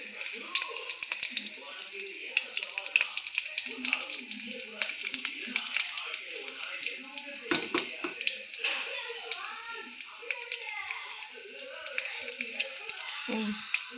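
Bread cutlets fry gently in a pan over a low flame, giving a soft, steady sizzle and crackle while someone talks over it.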